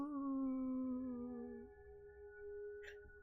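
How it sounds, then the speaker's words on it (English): A wolf howls in a long, steady, tonal call that slides lower before fading, sounding somewhat distant against a quiet background, with a second fainter howl held on afterward. "you hear the distant sound of a wolf howling"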